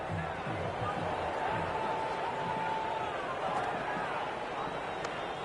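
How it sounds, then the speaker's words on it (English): Steady cricket crowd murmur and buzz in Cricket 26 fills the background, a dense continuous hubbub of many voices with a faint commentator voice underneath. "The spectators are absolutely buzzing right now."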